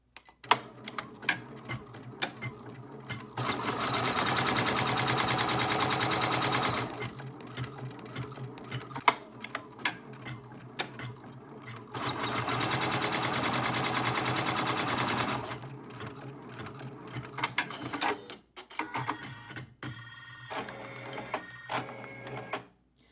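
An embroidery machine stitches a bracelet design held in a hoop. Two long, loud buzzing runs come with clicking and short stops between them, and a busier pattern of clicks follows at the end.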